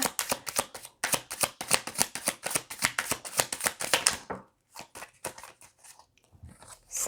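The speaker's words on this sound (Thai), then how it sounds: "ขอสับไพ่ละเอียดละเอียดหน่อยนะคะ" Tarot cards are shuffled in rapid, rhythmic bursts of close, crisp riffling for about four seconds, then slow to scattered softer card taps and slides.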